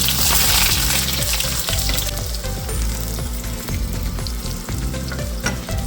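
Loud, steady sizzling of onions frying in a hot pan over low heat, with occasional scraping and clinking of a utensil stirring them.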